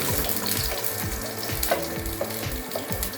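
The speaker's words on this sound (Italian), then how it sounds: "Lasciamo insaporire bene l'aglio" Garlic frying in a pan for pasta alla Norma: a steady, close crackling sizzle with small rhythmic bursts of spattering oil, moderately loud and continuous, with no one speaking.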